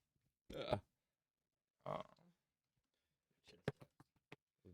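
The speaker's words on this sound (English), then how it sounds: "Burp." Two short, guttural burps sound in near silence, followed by a few faint clicks and small mouth noises.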